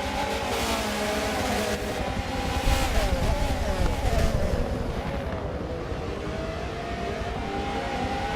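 Race cars in a sim racing series roar down the front straight out of the last hairpin, loud engine whines rising and falling in pitch as the cars pass close by.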